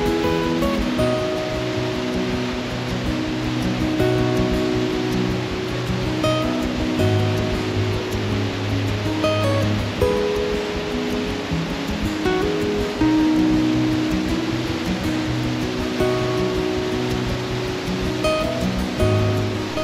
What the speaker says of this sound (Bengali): এই জল ওপর থেকে আসছে। এখন যেহেতু বর্ষাকাল সেই জন্য জলের ফ্লোটা একটু বেশি।